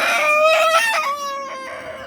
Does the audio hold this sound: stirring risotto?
no